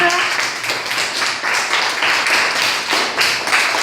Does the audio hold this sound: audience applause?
yes